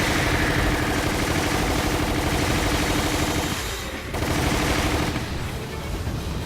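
Sustained gunfire from the Resident Evil: The Umbrella Chronicles video game, shooting a monster, forms a dense, loud, continuous barrage with a brief dip midway before the firing resumes.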